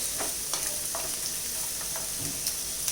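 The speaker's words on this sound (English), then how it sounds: "We just have to saute a little bit." Vegetables for a paneer sizzler sautéing in a pan, a constant hiss of frying with a few light scrapes of a spatula, heard close and alone.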